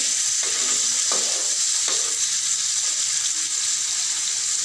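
Fish fries in a small amount of oil in a pan, a constant crackling sizzle with a few scraping stirs near the start, heard alone without any voices.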